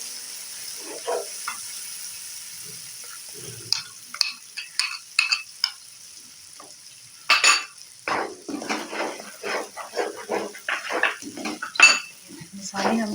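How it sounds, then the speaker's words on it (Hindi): Spoon stirring masala in a pot for Hyderabadi chicken, quiet at first, then a busy run of metallic scrapes and clinks against the pot, close and loud, with a faint sizzle underneath. "इसको मुसलसल हम चम्मच हिलाते जाएंगे ताकि मसाला जो है वो हमारा बहुत ज़्यादा"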